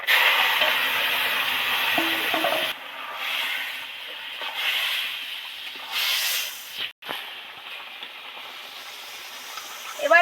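Vegetable curry with fried prawns bubbling and hissing in a pan, a continuous loud steamy hiss with shifting texture and a brief dip partway through.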